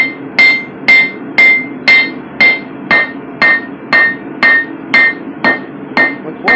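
A hammer strikes a hot steel plate being flattened from 16 mm to 2 mm, about twelve loud, evenly spaced metallic blows, each with a bright ringing edge, with no talk over them.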